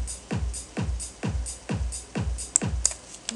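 A minimal programmed beat from FL Studio 8, with a steady pattern of deep kick drum thumps and short hi-hat ticks placed between them, quiet and evenly spaced, with a couple of brighter clicks near the end.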